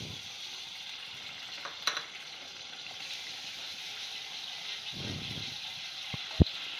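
Ginger-garlic paste fries with a coconut, tomato and sesame masala for a Nagpuri spicy chickpea curry, a steady close hiss of sizzling with faint stirring and a few sharp clinks near the end.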